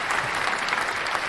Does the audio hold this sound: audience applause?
yes